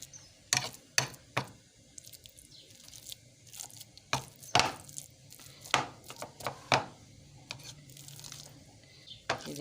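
Potatoes being mashed with a hand masher for cabbage parathas, a series of irregular squishing, clattering thumps close by, with no talk.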